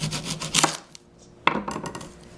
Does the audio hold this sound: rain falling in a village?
no